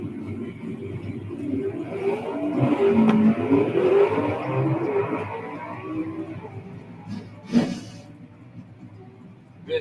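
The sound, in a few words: Camaro gasser drag cars racing side by side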